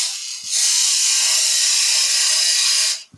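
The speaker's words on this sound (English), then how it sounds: "Little quarter inch, 6 mil beading and parting tool that was" A quarter-inch (6 mm) beading and parting tool cuts spinning wood on a lathe while shaping a traditional German Reiterlein Christmas ornament: a close, even, bright shearing hiss lasting about two and a half seconds, starting and stopping abruptly.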